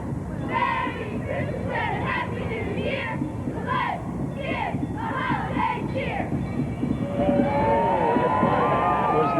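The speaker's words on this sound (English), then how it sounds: "I wanted to wait until they got done with their cheer to announce who they were" Middle school cheerleaders chanting a rhythmic group cheer at a chilly Santa Claus parade in Peoria, their shouted syllables in bursts, then a whistle-like rising tone near the end over street crowd noise.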